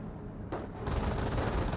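Rapid machine gun fire rattles continuously in a Company of Heroes World War II battle, dense bursts swelling louder midway and holding at full intensity as the firing keeps up.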